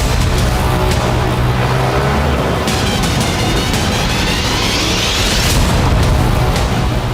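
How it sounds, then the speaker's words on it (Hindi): A missile attack on Kyiv fills the clip with a loud explosion: a heavy, continuous booming roar and rumble with harsh crackling noise. It stays dense and overpowering throughout, with no voices. "ये विस्फोट अब यूरोप में होने वाला है।"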